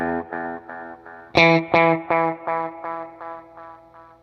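Electric guitar run through a Wampler The Doctor lo-fi ambient delay pedal with the mix set high, one struck chord repeating as a string of loud, evenly spaced echoes that fade gradually, with modulated, slightly distorted warble on each repeat.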